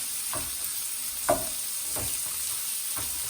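Cucumbers sizzling steadily in a hot pan for sweet and sour chicken, with several soft scraping stirs cutting through the frying hiss, close and moderately quiet.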